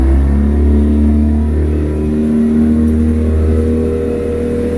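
A Yamaha F50 outboard motor on a 16-foot Hewescraft boat runs steadily under load, a loud, continuous low engine drone with a slight rise in pitch partway through and no talk.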